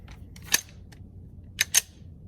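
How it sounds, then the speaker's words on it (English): A few sharp, fairly quiet pistol shots from an IWI Masada fitted with a Holosun red dot, fired at 10 yards: one crack, then a quick pair about a second later, over faint background noise. "I'm going to shoot it again at 10 yards and see how it looks"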